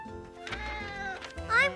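A cartoon cat gives a few meows and a drawn-out, rising caterwaul close up, ending in a louder upward-bending cry, with voices speaking around it.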